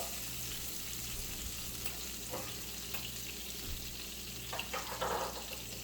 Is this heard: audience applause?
no